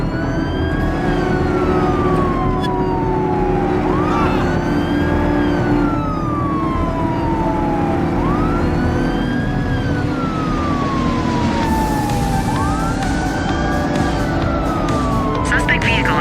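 A police car siren wails during a vehicle pursuit in the video game The Precinct, loud and close, rising and falling in repeated sweeps over a droning engine and road noise.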